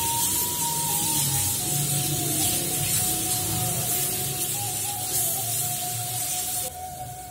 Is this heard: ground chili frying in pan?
yes